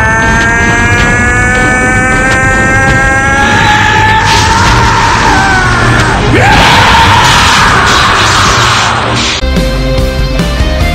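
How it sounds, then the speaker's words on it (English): An animated Goku lets out a long, loud, rising scream while transforming into Super Saiyan 3, a sustained strained yell over a roaring rumble that surges and then cuts off. "Goku went and he screamed as he has transformed to his Super Saiyan 3"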